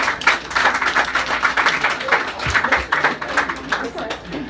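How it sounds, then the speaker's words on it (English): An indoor audience at a Central Brooklyn candidates forum applauds a candidate with dense, steady clapping that holds for several seconds, loud and close, with voices mixed into the crowd noise. "So you guys can give her a hand of a round of applause"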